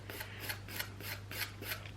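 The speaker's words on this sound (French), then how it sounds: "Moi, j'enlève tout à la lime," Nail file rasping off the shine of nail polish in quick, regular back-and-forth strokes, about seven short scratchy passes, close and fairly quiet.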